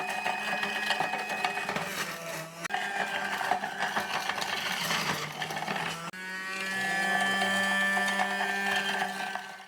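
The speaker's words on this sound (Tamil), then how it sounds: "நெக்ஸ்ட் பார்த்தீங்கன்னா நம்ம ஜூஸரில் தேங்காய் பழம் எடுத்துக்கலாம்" A 3-in-1 electric juicer running as it processes coconut, giving a steady loud mechanical whir and grinding with tonal hum and rattling, one brief break and shift in pitch partway through, no talking.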